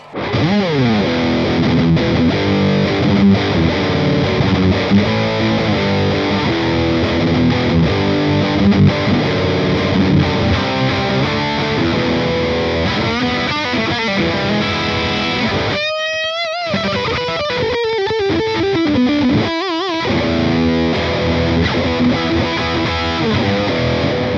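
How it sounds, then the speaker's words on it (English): A heavily distorted electric guitar through a Hughes & Kettner Spirit Nano amp head with sag turned fully down plays tight, chugging riffs and chords with a saturated high-gain tone, continuous and loud, with a couple of brief pauses. "let's bring the sag all the way down and go for a real tight high gain sound"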